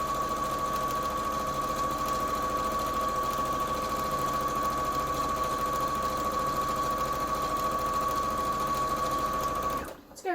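Sewing machine stitching fabric for a Christmas stocking, a steady close mechanical whirr with a constant hum, running evenly for about ten seconds before stopping abruptly at the end.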